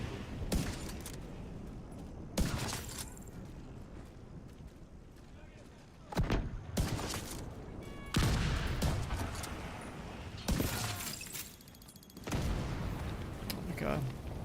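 Mortar fire spam in The Division 2 lands as repeated heavy booming blasts in uneven bursts, separated by quieter stretches, with talk in between.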